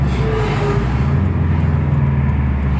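A deep, steady engine rumble fills the clip at close range, loud and continuous with a low throbbing undertone.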